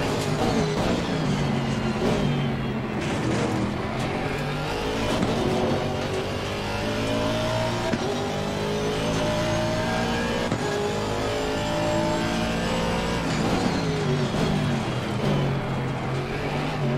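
GT3 and GT4 race cars in Assetto Corsa Competizione at Oulton Park: loud, continuous engine roar with rising and falling revs through gear changes, several cars audible close together.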